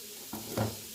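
Roasted masala in a pan on the stove as fresh yellow cow's cream is added: a sudden burst of sizzling that swells briefly, then fades back to a low hiss, close and fairly quiet, without talk.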